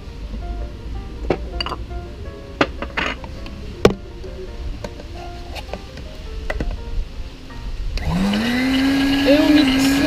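A kitchen blender starts up partway through, mixing milk into a milkshake with a loud steady whir and rising motor pitch, after several seconds of clinks and handling sounds.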